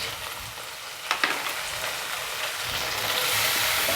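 Ground coriander and cumin powder frying in a pan for a Bengali soyabean kofta curry with tomato, a steady close sizzle with a few sharp clinks of a spoon near the middle and no talking.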